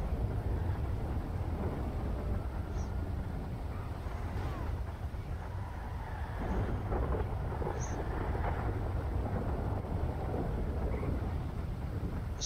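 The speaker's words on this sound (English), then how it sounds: "Oh wow, storm's coming, boys." Storm in GTA V on a FiveM server: a steady low rumble of wind and thunder that swells and fades, with faint rain-like hiss, moderately quiet and continuous.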